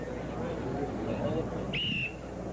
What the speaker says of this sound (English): Hal Connolly, the director of events, will blow the whistle to start them.